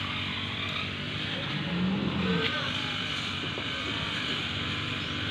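A car passes fairly close on a street, its engine and tire noise swelling briefly in the middle and then fading back into a steady background of traffic hum.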